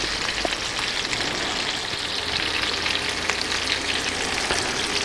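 Halibut fillets fry in hot butter in a pan, giving a dense, even sizzle with fine crackles throughout, close and fairly loud with no talking.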